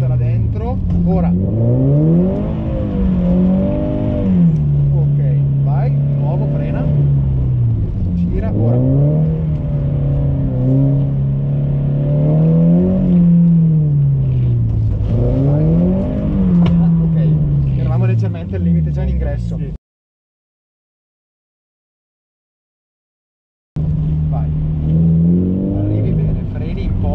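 A Toyota GT86 drifts on a track, its engine revving up and down in loud sweeping waves with tire noise, cutting out briefly near the end before the revving returns; an instructor's voice talks over it.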